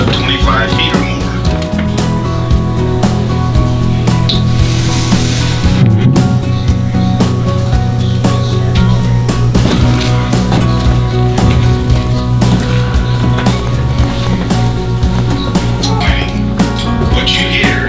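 Miners hand-drilling holes in rock the old-time double-jack way inside the Gold Bug Mine in Placerville, California, steady metallic tapping and clinking blows echoing nearby, dense and continuous.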